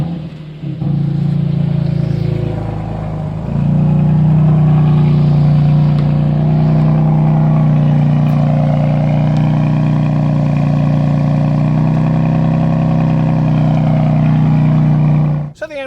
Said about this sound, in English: no video would be complete without starting the M4